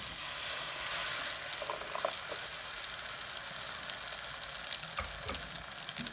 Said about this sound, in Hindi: घी को गरम करने के बाद हम इसमें जो ये हमने ग्राइंड किया था वो डाल देंगे।